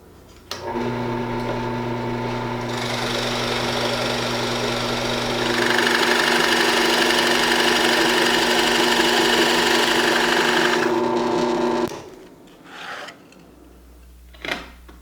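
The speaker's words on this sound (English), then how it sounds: "drill a shallow hole in them" A steady, loud power-tool whine of a drill boring shallow holes in wood runs continuously for about eleven seconds, rising in pitch midway, then cuts off, followed by a few light knocks.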